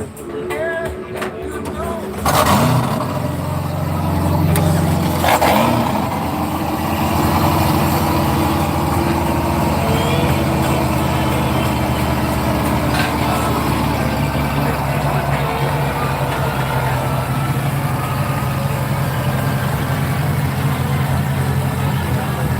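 SV627 boat's outboard engines starting up at a boat show, a brief crank then a steady, loud low idle rumble that runs throughout, with people talking over it.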